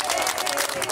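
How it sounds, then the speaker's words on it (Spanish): Crowd at a political rally in Pilar applauding and cheering for Patricia, a short dense burst of clapping and shouts with a steady tone running underneath. "Un aplauso a Patricia."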